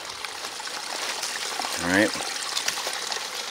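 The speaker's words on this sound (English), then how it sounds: "This is a nice, wide, shallow creek. Look at all the beautiful moss down here. Little waterfalls." A wide, shallow creek runs over mossy rocks and little waterfalls, giving a steady close rush of flowing water throughout, with a brief spoken voice near the middle.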